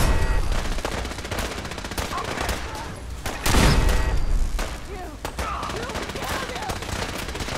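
Sustained gunfire from a Fallout 4 battle at Bunker Hill, with dense overlapping shots and bursts of automatic fire, a heavier blast near the middle, continuing loudly throughout.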